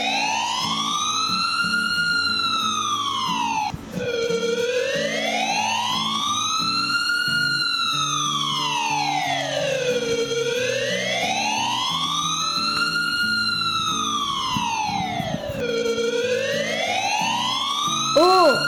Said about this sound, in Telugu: అంబులెన్స్ వచ్చింది. అంబులెన్స్ వచ్చి సీత వాళ్ళ ఇంటి ముందు ఆగింది.